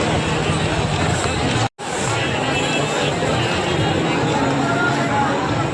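A dense crowd fills a busy market street in Dadar, Mumbai, near the flower market, with a steady close wash of chatter, footsteps and traffic noise and a brief dropout partway through.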